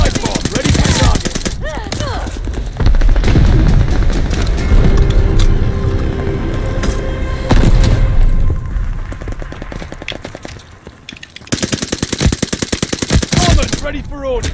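Call of Duty Vanguard free-for-all match with dense, loud gunfire and heavy booming blasts from a bombing run, continuing almost without pause before a brief lull and another burst.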